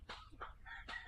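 Short bursts of chicken clucking, three quick calls close by, with a faint background hum between them.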